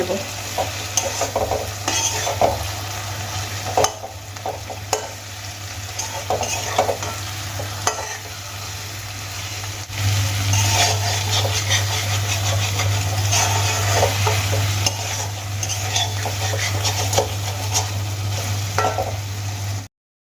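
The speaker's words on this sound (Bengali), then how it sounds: "ভাজা মাছের মাথাগুলো আমি দিয়ে দিয়েছি এবার আমি মশলার সাথে খুব ভালো করে মাখিয়ে" Fried fish heads are stirred and coated with spices in a sizzling pan, steady frying hiss with repeated scraping strokes of a spatula, close up, over a constant low hum.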